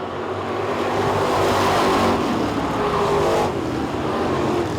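Street stock race cars roaring around a dirt track during a heat race at a world championship event, a loud, steady engine drone that swells as the pack passes and then eases slightly.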